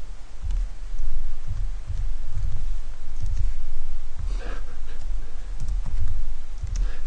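Someone types code on a computer keyboard, with soft, uneven runs of key clicks and low thumps close by, plus a breath or sniff between bursts.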